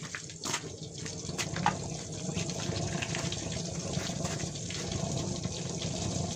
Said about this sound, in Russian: Вода в горелке начала скворчать, как яичница на сковородке.